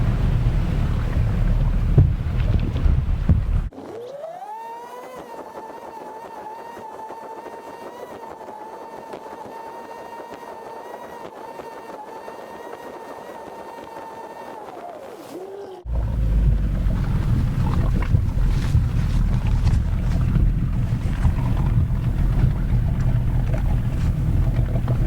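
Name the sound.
power boats passing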